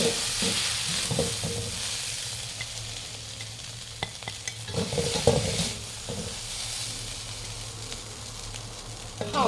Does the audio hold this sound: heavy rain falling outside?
no